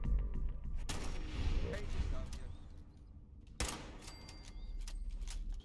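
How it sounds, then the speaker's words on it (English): Frag grenade blasts and sniper rifle shots in the Fallout 4 video game, two big booming explosions with crackling gunfire and rumble in between, loud and close, running under a voice talking throughout. "Couple frag grenades, couple frag mines, and some sniper rifle shots."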